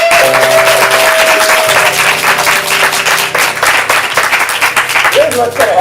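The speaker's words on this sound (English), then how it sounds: "clap it up for yourself" Audience applause at a ComedySportz improv comedy show in Portland, steady clapping from a small crowd under a voice speaking over it, with a sustained musical tone underneath.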